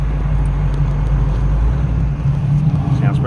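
A Dodge Challenger rumbles along the road with a deep, steady engine note. The sound stays loud and close, and faint background voices are barely audible.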